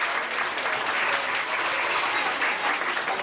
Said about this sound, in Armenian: Բային զորավոր ծափարչուն